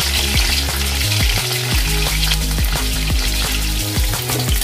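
Chicken frying in hot oil, a loud, dense crackling sizzle running throughout, with rhythmic low tonal sounds repeating beneath it.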